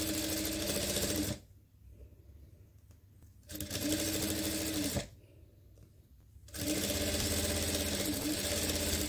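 A sewing machine stitches a trouser waistband in loud, steady runs, stopping twice for a few seconds and then starting again, close up with no talking.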